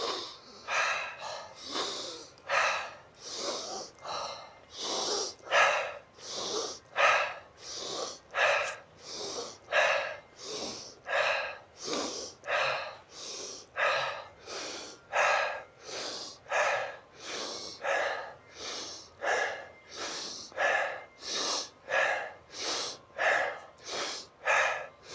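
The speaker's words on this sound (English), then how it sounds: "we'll do 10 breaths through the nose, 10 through the mouth, and 10 through the mouth and nose" Strong, rhythmic heavy breathing exercise through nose and mouth, an instructor leading a steady series of forceful inhales and exhales, about two breaths every second, close and loud with no other sound.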